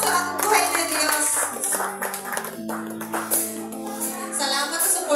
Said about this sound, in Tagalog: Palakpak po alin kita sa pakusog sa ating buhay na Diyos.